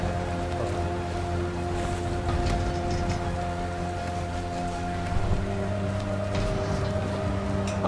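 Steady rain pours in the zombie survival game Dying Light, a constant hiss of falling water layered over a low droning hum, with no talking.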